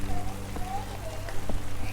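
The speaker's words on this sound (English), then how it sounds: "We got caught in a downpour." Rain falls on a garden with a steady soft patter and hiss close by over two seconds, while a voice speaks faintly underneath.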